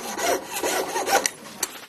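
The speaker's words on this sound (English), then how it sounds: "Then I go to my saw frame, my jeweler's saw." A jeweler's saw held in a saw frame cuts through a piece of recycled silver for a handmade ring, giving short rasping strokes in a quick back-and-forth rhythm, close and fairly clear.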